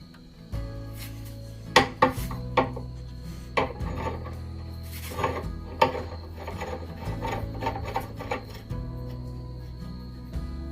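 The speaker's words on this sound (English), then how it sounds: "Tighten those down hard as you can tighten them. Turn everything." Gas pipe fittings being tightened make repeated metallic rasping, ratcheting and scraping. The sounds come close up in irregular bursts over a steady low hum, with no talking.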